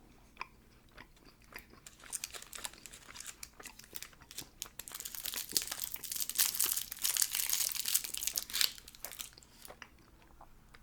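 Close, intimate chewing of chewy candies, with moist sticky bites and crinkling wrapper sounds that build to a dense stretch in the middle before easing off.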